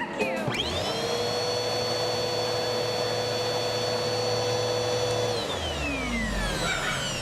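A household vacuum cleaner whirs loudly and close, starting up with a rising whine, holding a steady motor drone for several seconds, then spinning down with a falling pitch.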